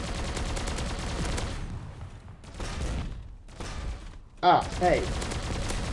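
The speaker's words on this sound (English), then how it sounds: "this gun is extremely powerful" Rapid bursts of robot gunfire from an extremely powerful weapon in the Bot Machines beta game, dense and loud, with a sharp louder blast near the end and a short spoken exclamation mixed in.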